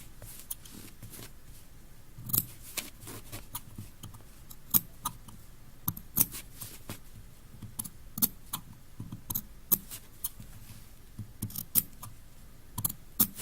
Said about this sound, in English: taking out little pie-shaped wedges out of the seam allowance, clipping almost to the seam line but not quite